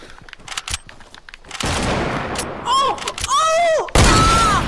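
Gunfire in a shooting video game, loud bursts and heavy sustained blasts mixed with game sound effects, with a player speaking over it.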